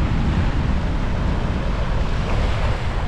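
Strong wind buffets the microphone on a Cuban beach while surf rolls and washes in steadily, a dense continuous roar without pauses.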